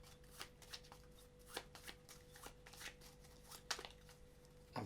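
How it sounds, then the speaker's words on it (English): Cards from the Forbidden Island board game are shuffled by hand, a quiet series of soft riffling flicks and taps in an irregular rhythm under a faint steady hum. "Next, shuffle the flood discard pile"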